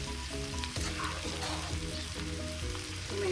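Chicken noodles sizzle steadily in a hot pan while being stirred and mixed, a loud, continuous frying hiss with soft scraping from the stirring and no voices.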